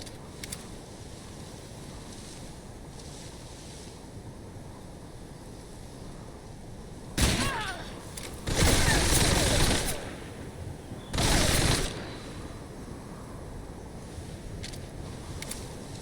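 Bursts of gunfire in Metal Gear Solid Delta: Snake Eater, loud broadband volleys around the middle of a quiet stretch, two sustained rattling bursts separated by a short gap, with faint background ambience.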